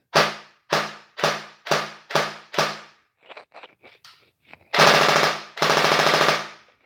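An airsoft gun fitted with a Titan trigger unit and running on a 7.4 V two-cell battery fires loud, close bursts: six sharp evenly spaced shots, some quieter mechanical clicks, then two long rapid full-auto strings.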